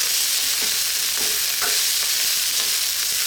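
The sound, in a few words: kikiam fried vegetable rice being stirred and fried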